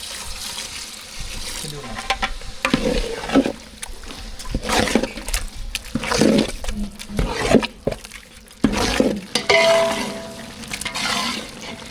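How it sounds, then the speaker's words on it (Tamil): Curry with coconut milk stirred in a pan, brinjal and green gram curries for a Sri Lankan style feast, wet scraping and sloshing strokes in uneven bursts at close range, with intermittent talk throughout. "நல்லா கலந்து விட்டுக்கலாம் நல்லா சேர்த்து நல்லா வெந்துருச்சு இது கூட வந்து தேங்காய் பால் சேர்த்துக்கலாம்"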